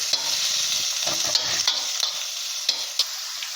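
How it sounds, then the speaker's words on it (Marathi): Onions fry in a pan with thecha, a crushed green chilli paste, for a horsegram soup. A loud, continuous sizzle is broken by repeated sharp scrapes and clicks of a spoon stirring. "कांद्याला त्याच्यामध्ये मिक्स करूया."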